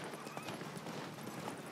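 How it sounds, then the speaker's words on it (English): The horse Roach's hooves clip-clop at a gallop in The Witcher 3, a fast, faint rhythm of soft beats under a steady wash of game ambience. "The horse is out of my control."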